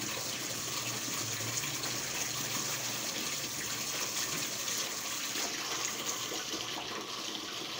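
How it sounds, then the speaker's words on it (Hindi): Water being sprayed onto flower decorations in a marriage hall, a steady close rushing gush of water that continues without pause, with no talking. "देखो जी फुलों पानी मारिया जान रहा।"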